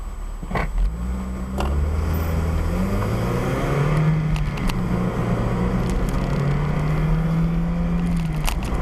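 2001 Toyota MR2 Spyder with 111,000 miles accelerating from a standstill, its engine droning steadily and rising in pitch from inside the cabin, moderately loud with a few clicks and knocks.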